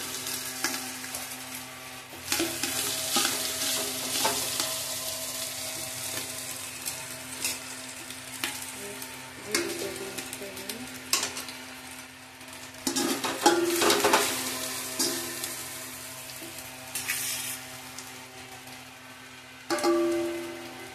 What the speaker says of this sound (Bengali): এবার আমি এর মধ্যে রাইসগুলো দিয়ে দিচ্ছি, একটু করে রাইস দেবো